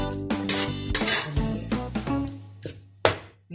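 Stir-fried spinach is scooped out of a pan, with several clinking scrapes of a metal utensil against the cookware, closely spaced and fairly loud, plus a light background sizzle and no talking.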